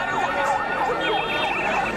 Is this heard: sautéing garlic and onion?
no